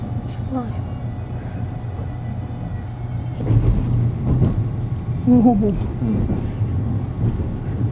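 A freight train rumbles by at moderate distance near Okayama, Japan, a low steady roar with clanking bursts partway through, while people chat over it.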